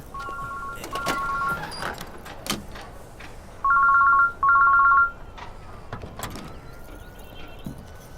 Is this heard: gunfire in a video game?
no